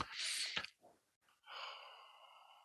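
A voice imitating the Ujjayi yoga breath, a breathy, hissing exhale from the back of the throat, heard close and alone as one long rushing breath, a short pause and a fainter drawn-out throaty breath.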